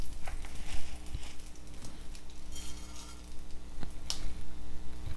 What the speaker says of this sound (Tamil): சீரகம் நல்லா பொரியிற வரைக்கும் இதை வந்து வதக்கிக்கலாம்.